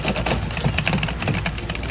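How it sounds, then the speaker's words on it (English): Fast, loud clattering of a computer keyboard being typed on, the keystrokes close and rapid in an uneven rhythm, alone with no talk over them. "That's amazing keyboard. It's so loud."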